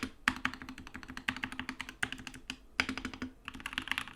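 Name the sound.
typing on modded SK64 mechanical keyboard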